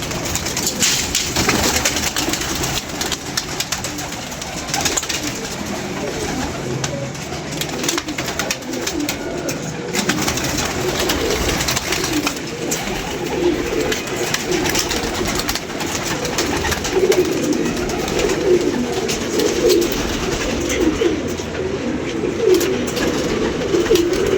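A flock of pet pigeons coos in a sustained, dense chorus nearby, the low warbling calls overlapping without pause amid faint background noise.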